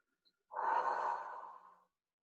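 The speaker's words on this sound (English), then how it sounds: "really long, deep inhale before we send you on your way today. An elongated exhale." A single long, deep breath during a fitness cooldown, heard up close and alone in a quiet room, a smooth airy exhale lasting over a second.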